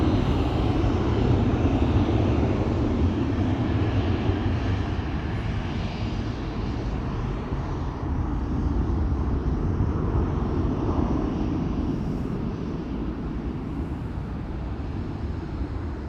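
A departing airliner on flight 8352 to Valencia from Amsterdam Schiphol rumbles steadily in the distance, a broad continuous engine roar that holds level throughout.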